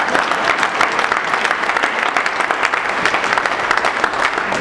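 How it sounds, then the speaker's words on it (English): A town hall audience breaks into sustained, dense applause for Congresswoman Yvette Clarke: a steady wash of many hands clapping at an even level, with no voices on top. "I should be getting a thunderous applause for that."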